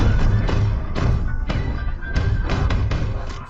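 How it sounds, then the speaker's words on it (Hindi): Repeated heavy thuds pound against a door in a film scene, a steady series of loud, dull blows about every half second over a dense rumbling background. "लेकिन दूसरी तरफ से धक्कों की आवाज सुनी।"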